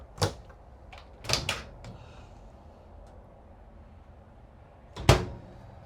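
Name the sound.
RV drawers closing without soft-close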